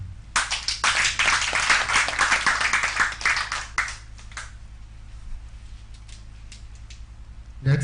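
An audience claps for a team's stir-fried chicken and veggie dish at a live cooking show, dense close applause for about four seconds that thins into scattered claps, with a voice briefly heard at the end.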